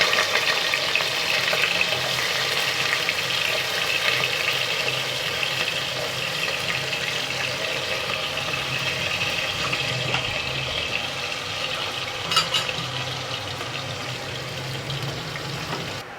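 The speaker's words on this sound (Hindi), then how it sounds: "और अब मैं इसमें डाल दूँगी ये प्याज जो मैंने काट के रखी हुई थी" Chopped onions sizzle and fry in hot cooking oil in a cooker, a dense, steady crackling hiss close by that keeps on without a break and with no talking.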